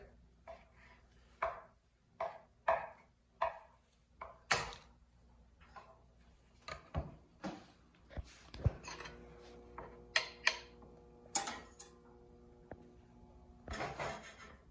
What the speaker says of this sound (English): You can cut these whatever size you like.